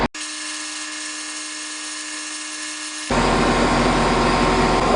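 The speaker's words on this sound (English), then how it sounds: "Plasma or bandsaw? Plasma it is." Plasma cutter slicing a 6-inch piece of metal for a rear winch mount on a mini-truck, a steady electric hum that jumps into a loud, harsh hissing roar as the cut begins, close and continuous.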